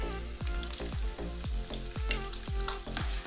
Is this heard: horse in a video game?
no